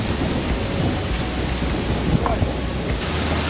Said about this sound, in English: You can probably hear that thunder then.